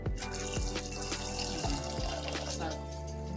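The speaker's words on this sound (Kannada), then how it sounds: "ಸ್ವಲ್ಪ ನೀರು ಹಾಕಿ" Water poured into a pot of soaked chickpeas with soda and salt for pressure cooking a chaat snack, a close, steady splashing pour running throughout under a background hum.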